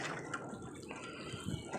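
Blackstrap molasses poured onto garden soil gives a soft, steady liquid trickle with light splashing, faint and close, with no talking.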